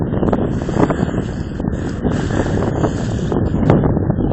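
Steady wind buffets the microphone while sailing on the Szczecin Lagoon, a continuous loud rushing roar with gusty swells and faint water and rigging noise beneath.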